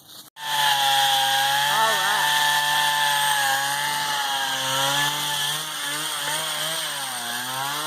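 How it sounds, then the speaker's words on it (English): A chainsaw cuts ice-covered wood in icy weather, a loud, close engine drone that rises and wavers in pitch as the chain bites. It runs throughout. "Daddy's got to get in there with the chainsaw"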